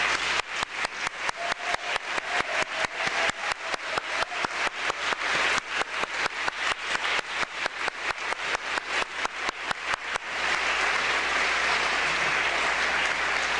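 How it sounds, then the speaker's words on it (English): A graduation ceremony audience applauds the families, sustained loud clapping from a large crowd lasting over ten seconds, dense and even, tapering slightly near the end with no speech over it. "let's give a round of applause to our families"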